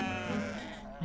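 Sheep bleating near a desert tent in Tunisia, a short sustained harmonic bleat filling most of the moment with a second brief call at the end, with faint voices underneath.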